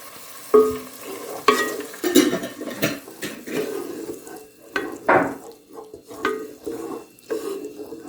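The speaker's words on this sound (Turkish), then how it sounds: "domateslerimizi koyuyoruz ve karıştırıyoruz" Tomatoes are stirred in a hot pot for a dough-drop soup, with loud scraping strokes of a spoon and wet sizzling frying underneath, the strokes coming in an uneven rhythm, close and without talk.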